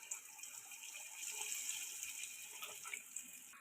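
Pieces of a homemade evening snack sizzle in hot oil, a steady, close, bubbling hiss that swells slightly midway, with no voices.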